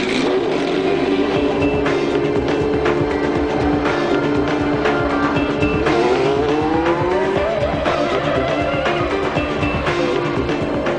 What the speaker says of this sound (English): European Minardi team had no less than 5 two-seater Formula One cars at Donington